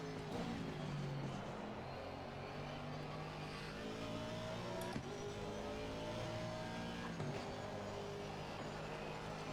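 A race car engine in Assetto Corsa Competizione at the Spa circuit drones steadily at high revs, with a couple of quick gear-shift dips in pitch over a constant loud roar.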